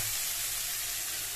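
Bitter gourd and potato fry in a pan over a gas flame, giving a continuous, even sizzle close up with no voices.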